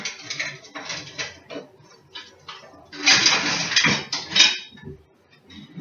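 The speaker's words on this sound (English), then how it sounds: "I'm going to use an ice cream scoop because it'll be easier" An ice cream scoop clinks and scrapes against a bowl while spooning thick muffin batter, giving close, uneven metallic taps and scraping, with a busier burst of scooping midway.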